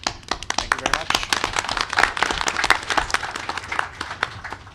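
A smaller group claps after a cybersecurity training session, individual hand claps distinct and uneven, fairly close, with a faint voice or two underneath.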